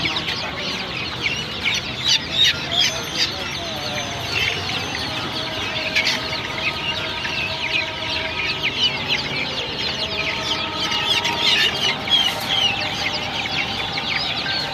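Turkeys and guinea fowl at a poultry market make a busy chorus of clucks and chattering calls, repeated and overlapping throughout, fairly close with a crowded background.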